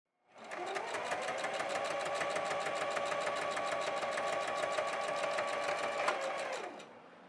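A sewing machine stitches a fabric seam in one continuous run of about six seconds, a steady rapid mechanical whir that starts and stops cleanly, heard close and alone.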